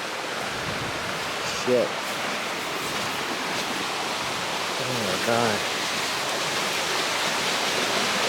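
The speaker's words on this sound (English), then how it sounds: "This is just flooding over the top." Floodwater rushing over an island at a homestead during a cyclone, a loud constant broadband roar. A man's brief exclamations of alarm are heard over it.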